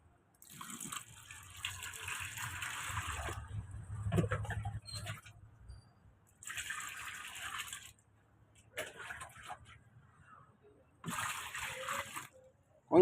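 Water is scooped and poured with a dipper while laundry is washed by hand in Tondo, coming as repeated bursts of splashing and trickling separated by short quiet gaps.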